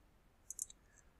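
A small cluster of three or four quick computer mouse clicks while editing a photo in Photoshop, close and light with quiet around them.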